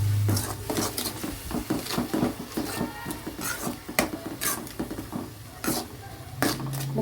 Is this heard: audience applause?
no